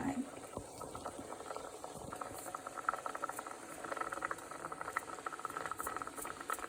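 Rasam boils in a pot on the stove with soft, fast bubbling and patter, fairly quiet, with faint kitchen noise around it.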